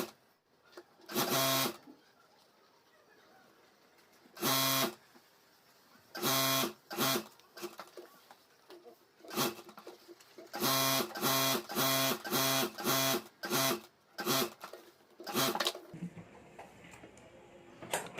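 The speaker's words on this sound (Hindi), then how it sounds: "तो यहाँ मैं चारों तरफ सिलाई कर देता हूँ।" Sewing machine stitching fabric over a rubber sheet and lining, running in short loud bursts separated by pauses, each burst a rapid buzzing rattle, close by.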